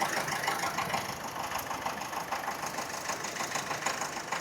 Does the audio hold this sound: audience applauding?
no